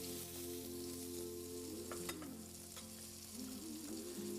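Onions hitting a pan of hot butter for duck with Israeli couscous, a steady soft sizzle with a few louder crackles and scrapes, fairly quiet, no talking.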